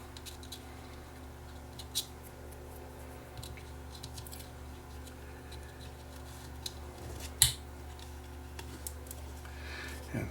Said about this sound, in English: I'm going to pop the SD card into the camera here